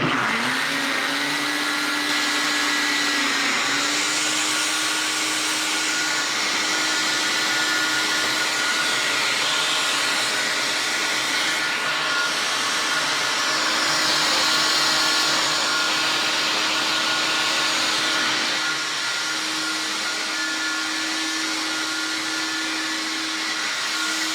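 Vitamix blender whirring steadily as it mixes ingredients, a loud continuous motor drone with a sustained pitch that shifts slightly a few times, close by and with no voices over it.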